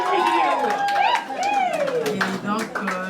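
Guests at a family dowry celebration in Le Mans applaud while high ululating cries and cheering voices dominate. Scattered claps and crowd chatter sit close underneath.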